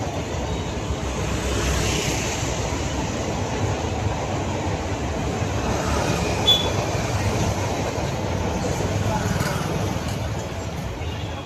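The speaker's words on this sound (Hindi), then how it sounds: "ये दिखा ट्रेन जा रही है सामने से" A train rolls past close in front at Janeshwar Mishra Park, a loud, steady roar of wheels and carriages with a thin squeal on top. The rumble holds for the whole stretch, and voices sit underneath.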